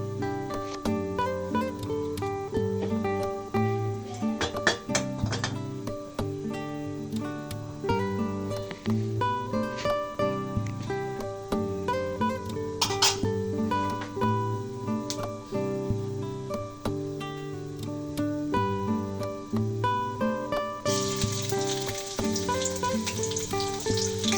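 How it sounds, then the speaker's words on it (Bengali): Onion and garlic paste frying in hot oil in a wok for a drumstick curry, a steady soft sizzle running the whole time beneath a prominent tonal, music-like background. "সামান্য পেঁয়াজ একটু রসুন বাটা আর একটু পেঁয়াজ বাটা একসঙ্গে ভেজে নেবো"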